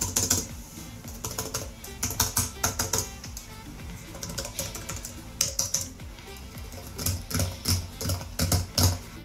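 Typing on the membrane keyboard of a 2019 Dell G laptop, quick bursts of soft clicky keystrokes with short pauses between runs, close and clear with no talking.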